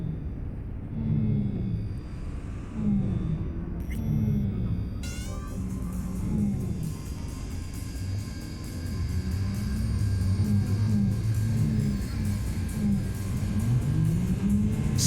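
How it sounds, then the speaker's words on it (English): A truck driving in Cyberpunk 2077 gives a steady, loud low rumble and hum that throbs slightly and persists throughout, with a faint high electric whine rising in partway through. "this truck pretty much sounds like it's a fully electric piece of shit"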